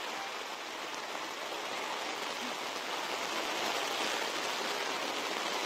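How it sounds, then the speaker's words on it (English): A torrential downpour falls during a York High football playoff game, a dense, steady hiss of heavy rain that fills the whole stretch at a constant level. "remember that one time we did that York High game in the downpour?"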